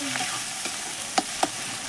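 Spices with turmeric frying in a pan, a soft steady sizzle with a couple of brief scraping stirs, no talking.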